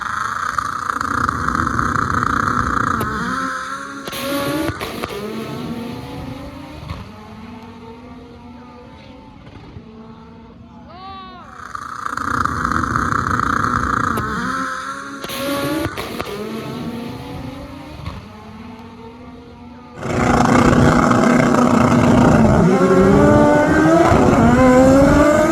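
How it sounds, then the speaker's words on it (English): Drag race final at a speed festival, with race car engines roaring loud and close, revving in repeated bursts with falling pitch sweeps as cars launch and pass, a quieter lull midway, then a sudden sustained full-throttle roar at the end. "But what a drag race it was."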